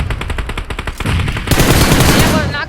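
Gunfire from PUBG Mobile on the Rondo map: a rapid automatic burst of evenly spaced shots gives way to a denser, louder barrage, all close and dominant.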